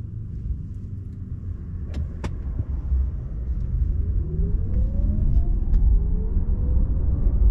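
Car engine inside a moving car during a driving lesson on a busy city road, a steady low rumble with faint pitch sweeps as the driver eases off the accelerator, continuous road noise throughout and no talking.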